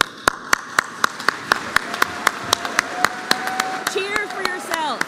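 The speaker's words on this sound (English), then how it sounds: "let's take a moment right now and clap for yourself, and do not stop clapping" Graduates at a spring graduation ceremony clap for themselves, sharp regular claps standing out from a dense crowd bed, with cheering voices and whoops rising near the end.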